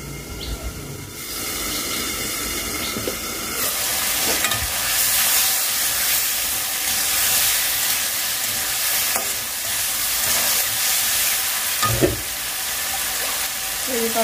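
Finely chopped leafy greens frying in a pan, a continuous loud hiss of sizzling oil that swells after the first few seconds, with occasional scrapes and knocks of stirring throughout.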